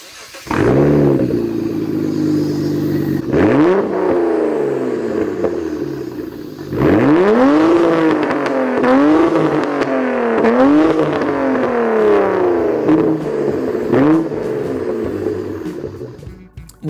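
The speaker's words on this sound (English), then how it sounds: "you can find yourself a V6 engine version too, which, by the way, sounds" A V6-engined Japanese car revs repeatedly, loud and close, each throttle blip climbing and falling back in a steady series of surges with no talking.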